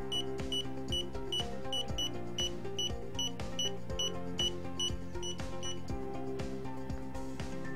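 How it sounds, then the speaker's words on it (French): A YOUNGDO digital laser tape measure in continuous beep mode chirps a rapid series of short, high-pitched electronic beeps, evenly spaced, over a constant musical bed. "vous pouvez donc le mettre en mode bip continu."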